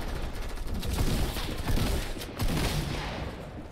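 Rapid gunfire in the video game Fortnite, a dense, continuous fusillade of overlapping shots heard close and loud throughout, with no talk.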